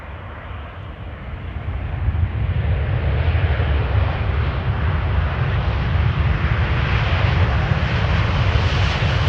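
A seven-year-old KLM airliner, inbound from Cartagena as flight 741, arrives on the Polderbaan runway 18R at Amsterdam Schiphol, its jet roar swelling steadily and filling the air for several seconds, with no voices.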